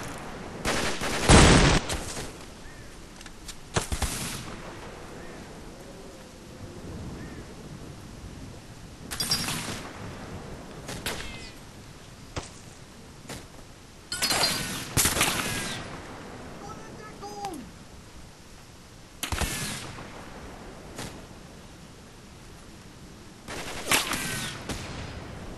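Bren gun team firing in the Combat Mission wargame: several loud bursts of gunfire and heavier booms roll out at irregular intervals across the half minute, with quieter battlefield rumble between them.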